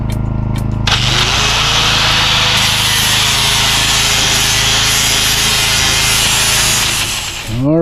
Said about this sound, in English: Back to grinding.